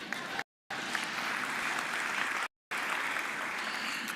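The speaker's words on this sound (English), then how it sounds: "Another round of applause for the MC," Sustained applause from a conference audience at the CGIAR Science Week closing ceremony, an even wash of many hands clapping, interrupted twice by short silent gaps.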